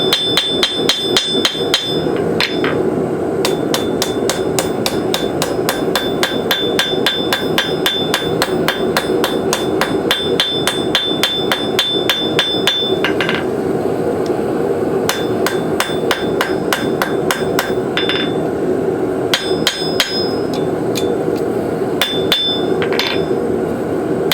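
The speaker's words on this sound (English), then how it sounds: "Get the blade flattened out somewhat." Steady rapid hammer blows on hot steel as a hook knife blade is forged flat, loud and close, ringing strikes in quick runs broken by short pauses.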